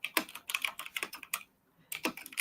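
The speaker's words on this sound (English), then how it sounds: "sorry, the clicking." Rapid computer keyboard typing with crisp, close clicks in quick irregular bursts, a brief silent pause, then more keystrokes.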